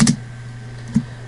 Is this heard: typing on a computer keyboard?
yes